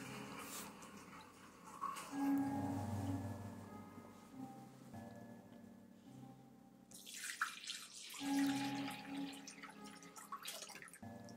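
Hot water is poured into room humidifiers indoors, with intermittent gurgling pours and splashes alongside small clinks and drips, fairly quiet and close, with no speech.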